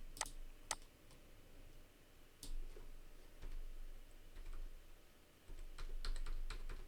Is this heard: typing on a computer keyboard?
yes